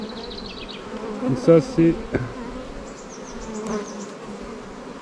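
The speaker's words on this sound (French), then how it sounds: "Oui, il y a plein de faux bourdons" Honeybees and drones buzz on an open hive frame while a super is added to a production hive, a steady close insect drone with brief louder swells as a voice speaks softly over it.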